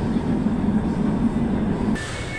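An LRT train rides between stations in Manila, a loud, steady interior rumble with rolling wheel noise that shifts abruptly near the end as a faint high whine and tone appear.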